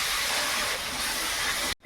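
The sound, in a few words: water poured onto frying spices, sizzling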